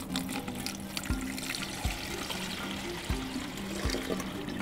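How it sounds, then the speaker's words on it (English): Water drains from a model of an ancient water clock as a steady trickling, pouring flow, with soft periodic gurgles and drips, close and without speech. "I've run this test before, so we can expect that it'll take about 2 minutes for the water to drain."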